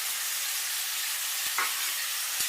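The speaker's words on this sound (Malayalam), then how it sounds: "ഇത് നന്നായിട്ടൊന്ന് ഇളക്കാം" Egg masala with a pinch of salt fries in a pan, giving a loud, steady sizzle with a couple of brief spoon taps and scrapes as it is stirred.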